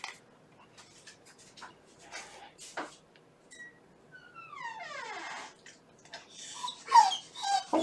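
A dog whimpers and whines in a series of high, falling cries, with scattered clicks and rustles around it and a louder burst near the end.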